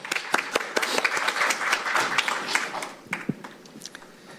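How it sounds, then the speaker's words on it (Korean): Audience applause at a policy forum on autonomous driving, a brisk uneven patter of many hands with sharp individual claps and a few taps, fairly close and filling the room before thinning out near the end. "박수 부탁드리겠습니다"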